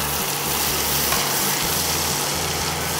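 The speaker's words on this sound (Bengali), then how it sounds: "পেঁয়াজটা খুব বেশি ভাজা যেহেতু হবে না, সেই জন্য এটা একটুখানি নেড়েই আমরা ক্যাপসিকামটা দেবো" Chopped onions with a pinch of salt fry in a pan and are stirred, a steady close sizzle with faint scraping and a low hum underneath, no talk.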